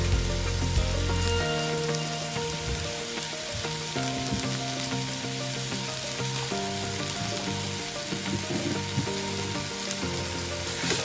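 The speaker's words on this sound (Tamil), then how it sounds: "தக்காளியை நல்லா கூட சேர்த்து நல்லா வதக்கி விட்டுட்டே இருக்கணும்" Onions and tomatoes sautéing in a pan for a Tamil dry-fish thokku, with a steady dense sizzle and intermittent stirring scrapes, close and continuous with no speech.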